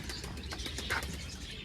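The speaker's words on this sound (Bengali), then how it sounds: "এখানে কিন্তু অনেকগুলো কবুতর আছে।" Pigeons in a coop coo and shuffle softly, with wing flutters and faint chirps over a steady low background, no voices.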